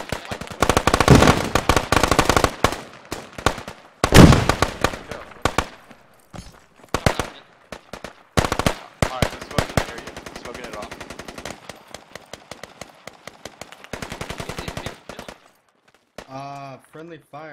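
Automatic and single-shot gunfire crackles in loud, rapid bursts during a Squad multiplayer match, with sharp close volleys, pauses and quieter distant shots, while players talk over the action.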